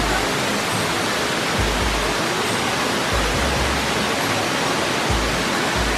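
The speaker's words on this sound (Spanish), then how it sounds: "Esta es la cascada escondida. Está saliendo de la gruta, túnel, lo que sea." A hidden waterfall pours out of a rock grotto or tunnel on a mountain trail near Jardín, Antioquia, Colombia: a loud, unbroken rushing roar heard up close, steady throughout with no voices.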